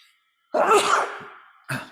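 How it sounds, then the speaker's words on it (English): A single sharp sneeze bursts out close to the mic, followed by a short breathy exhale. "I think I'm about to sneeze."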